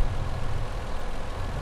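A small tractor idles in the Farming Simulator 17 farm game, giving a steady low diesel rumble that stays even and close throughout, with no speech.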